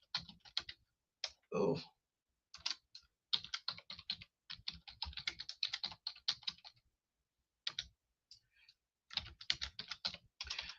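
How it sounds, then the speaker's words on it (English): Typing on a computer keyboard in a quiet room: bursts of rapid, crisp key clicks separated by short pauses, close and clear, with a brief murmured word. "let me type it here"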